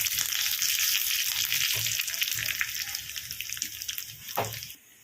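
Mustard seeds and curry leaves sizzle steadily in hot oil, a dense continuous crackle with a few soft pops and stirring knocks, fading out at the very end.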